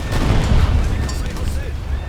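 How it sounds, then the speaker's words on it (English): A torpedo detonates in War Thunder as a loud, heavy, rumbling boom. It swells, holds for about two seconds, then tails off, with speech-like sound mixed into the blast. "Yay, torpedo detonation."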